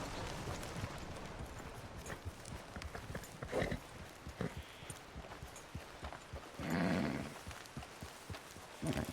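Horse hooves pound in a steady gallop across the ground in Red Dead Redemption 2, a Piebald Tobiano Hungarian Halfbred ridden along a path, the clip-clop close and continuous with a couple of louder bursts.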